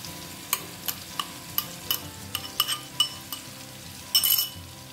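A spoon stirs and scrapes thick Goan masala paste in a pan for a sweet and sour mango dish, with repeated metallic clinks and a soft sizzle underneath.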